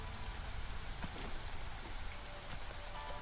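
Steady rain from drizzle season in the city-building game Against the Storm, a continuous soft patter of drops on surfaces with faint ticks, constant and alone without voices.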